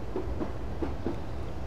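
Class 156 diesel train coasting at 25 mph in Train Simulator 2015, a video game, on the Glasgow Central route: a steady low rolling rumble with a few soft rhythmic wheel clicks, moderately loud, with no voices.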